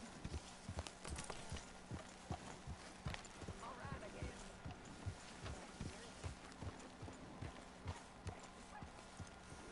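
Horse hooves clip-clopping at a steady walking rhythm in the video game Red Dead Redemption 2, close and regular, with a faint whinny and ambient game sound underneath.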